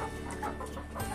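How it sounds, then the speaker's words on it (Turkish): Sultan chickens clucking close by, a few soft overlapping clucks over a low steady background hum. "Bizim sultan tavuklarımız gayet güzel."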